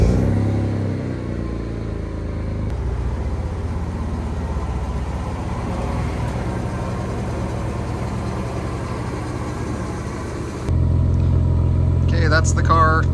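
A Mitsubishi 3000GT VR4 engine runs steadily at idle, a low continuous rumble that grows a little louder near the end, with a brief higher noise toward the close.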